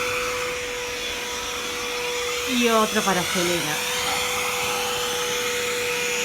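Household vacuum cleaner runs steadily with a high motor whine throughout, while a person speaks over it in the middle.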